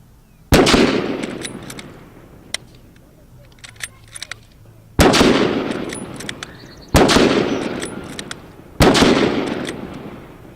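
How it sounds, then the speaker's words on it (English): Four sharp, loud rifle shots ring out from a Guardsman's bolt-action rifle, spaced a couple of seconds apart with faint metallic bolt clicks between them, each blast trailing off in a long echo. "So we'll have the Guardsman fire his complement of ammunition."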